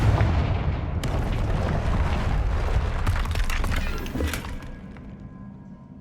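Sustained roaring blast of a fire spell explosion in the Hogwarts Legacy video game, loud and continuous with crackling bursts and sharp impacts throughout before trailing off.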